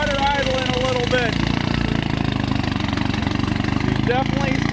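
A street-tuned car engine with a turbo idles roughly, a steady close mechanical drone with a faint pulsing rhythm, while a person talks over it.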